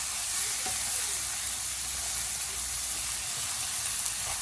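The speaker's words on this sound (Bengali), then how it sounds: "টু থেকে থ্রি মিনিট আমি জাল দিয়ে শাকগুলো ভেজে নিব" Red amaranth greens frying with shrimp in a pan give a steady, close, loud sizzle that holds evenly throughout, with a few faint knocks underneath.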